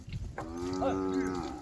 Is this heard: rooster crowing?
no